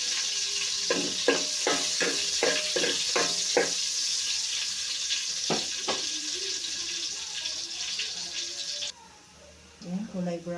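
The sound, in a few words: garlic sautéing in oil in a pot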